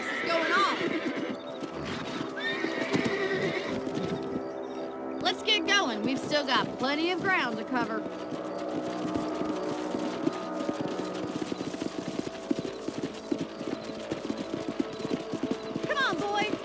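Horses in the Red Dead Redemption video game trot with steady clip-clop hooves and neigh several times. Someone talks over the riding sounds throughout.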